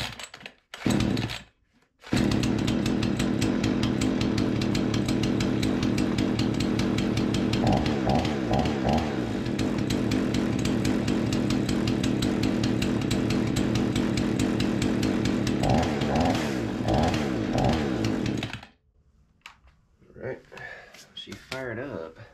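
A Remington 46cc chainsaw engine runs loud and close after a cold-weather start, a steady buzzing idle with a few brief throttle changes, then cuts off near the end.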